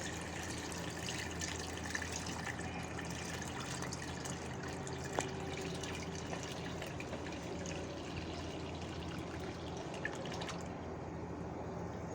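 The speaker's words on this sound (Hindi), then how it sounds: "ये पानी के साथ हम इसको छान लेंगे, अगर कोई बेसन का लम्स हुआ तो फिर ऊपर रह जाएगा" Water trickling and dripping steadily as a lassi and gram flour batter is poured through a sieve in a home kitchen, a soft continuous wet pouring with a few brief splashes, close and alone.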